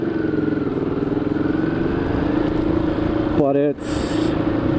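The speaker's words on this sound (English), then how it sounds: "it's kind of clunky and, unrefined and farty and backfirey and all those things that are typical of a Ducati" A Ducati Hyperstrada motorcycle engine drones steadily while riding through San Francisco, a loud, continuous rumble with a brief rising whine near the end, and someone talking over it.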